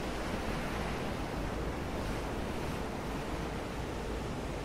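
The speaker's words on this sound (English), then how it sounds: "There sounds like there's a storm approaching." Steady roar of wind and ocean waves from an approaching storm in a video game, a dense continuous wash of noise at a constant level with no talk.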